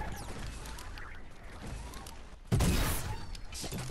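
Gunfire in the Fortnite video game erupts as a sudden loud burst partway through, over a steady backdrop of game noise, with a voice briefly audible.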